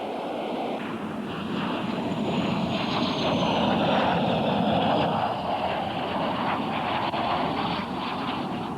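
An airborne Avro Lancaster bomber, the only surviving airworthy example, flies overhead on its four Merlin engines. A loud, steady, throbbing propeller drone fills the whole stretch with no speech.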